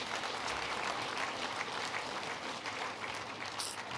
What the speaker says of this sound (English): How about you give them all another round of applause